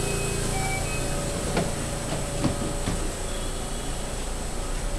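Steady rumble and hiss of a JR West 223 series local train departing Zeze station, Japan, with a few faint clicks of wheels on track as it moves off.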